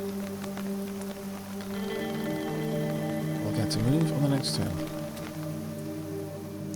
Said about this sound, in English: let's not be stood outside in the rain if we don't need to be